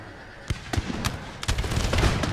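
Musket volleys from troops on a battlefield in Empire Total War, heard as several sharp, crackling bursts spaced unevenly over a steady noisy background, the later shots merging into a denser rolling rattle.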